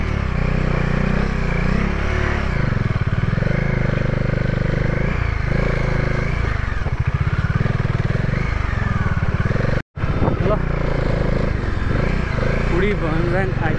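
A Bajaj Dominar 400 motorcycle engine drones loud and steady while riding a rough, potholed mountain road near Kathmandu, with a rider talking over it and a brief dropout near the end.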